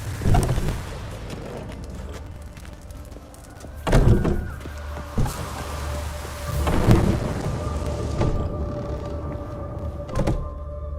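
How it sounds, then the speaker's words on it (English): Thunderstorm in the video game The Witcher 3, steady rain with several heavy rolling thunder cracks spread across the scene, loud and close against a constant wet hiss, no talk. "The storm, damn it."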